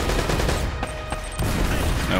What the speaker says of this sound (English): stop firing your pistol at me